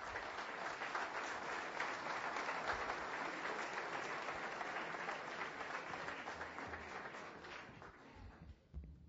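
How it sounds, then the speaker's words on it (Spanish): Audience applause after a dedication at a local inauguration event, a dense steady wash of clapping from a crowd that holds for several seconds and then thins out near the end. "les dedicaran un aplauso"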